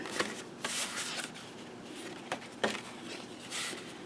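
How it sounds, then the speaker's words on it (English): Tape is applied to the back of a closed paper envelope while a photo folio is assembled. Soft, quiet rustling and crinkling is broken by a few sharp clicks and taps, with no talking. "Turn the closed envelope and apply tape on the entire back."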